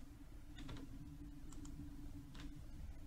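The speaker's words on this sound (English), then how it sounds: "I can use the left and right bracket keys to make the destination spot larger." Computer keyboard keys pressed in a few short, quiet clicks in small clusters over a steady low hum, close but faint, with no talking.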